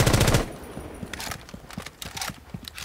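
Automatic weapon fire in the tactical shooter Rainbow Six Siege, a loud burst at first, then a rapid train of lighter, evenly spaced shots that keeps going steadily to the end.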